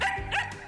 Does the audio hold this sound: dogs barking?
yes